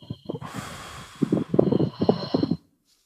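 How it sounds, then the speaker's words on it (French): A deep breath taken during a relaxation exercise: a long, audible inhalation followed by a slow, breathy exhale with slight snorting texture, close and alone before falling silent. "Alors, une respiration."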